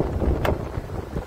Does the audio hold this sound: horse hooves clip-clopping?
no